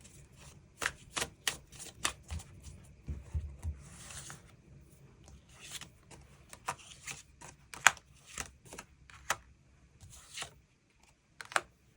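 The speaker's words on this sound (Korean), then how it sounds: "추가 카드 뽑아보도록 하겠습니다" Tarot cards are shuffled and drawn by hand, a run of crisp, close slaps and riffles arriving in irregular bursts, with a short flurry near the start and scattered single snaps after, quiet and alone.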